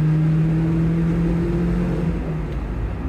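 Mazda MX-5 engine running with a near-standard long-life exhaust, a loud steady droning hum with a low tonal note held close by, easing slightly toward the end, with no talk.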